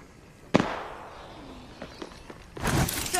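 Grenade blast in the game Apex Legends: a sharp, loud burst hits early, followed by a decaying rumble, scattered clicks and footsteps, then a second, dense noisy eruption near the end, with no talk.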